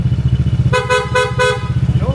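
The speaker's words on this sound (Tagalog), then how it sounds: "Tunog busina na, sir." A Honda ADV motorcycle idles with a pulsing engine thump while its repaired horn, with four horns fitted, beeps three times in quick succession, loud and close.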